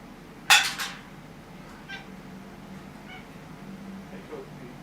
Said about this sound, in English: Yes, you're the cat, I know.